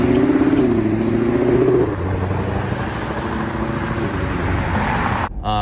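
A new Ford Mustang engine drones loudly and close, its pitch holding briefly before dropping as the car moves on, with a sustained roar of engine and road noise.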